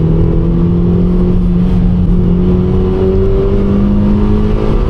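A Toyota Yaris engine accelerates hard in second gear up to 60 mph, a loud steady drone whose pitch climbs slowly throughout, heard from inside the car with no talking.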